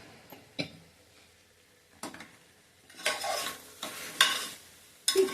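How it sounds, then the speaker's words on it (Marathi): Masale bhat spiced rice being stirred with salt and chili masala in a pot, a few separate scraping and clinking strokes of a spoon against metal over a quiet, faint sizzle. "मीठ आणि तिखट मसाला घातल्यानंतर एकदा छान व्यवस्थित हलवून घ्यायचंय"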